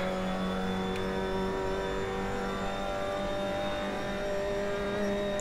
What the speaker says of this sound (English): Oh, I'm over revving it in third.